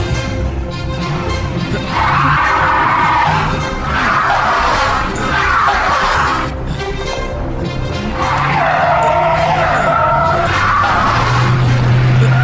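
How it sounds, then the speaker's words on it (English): A stuck car is pushed while its engine is started, giving loud revving surges with squealing, skidding tires that rise and fall in several long waves, close by and with no talk. "Start the car. I'll try and push."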